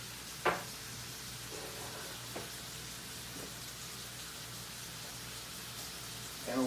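Steak frying in a pan for a cheese steak sandwich gives off a faint, steady sizzle, broken by a few soft clicks and taps.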